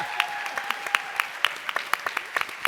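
Steady audience applause with many hands clapping at a brisk rhythm and distinct individual claps standing out, moderately loud, after a pitch session for student sports initiatives.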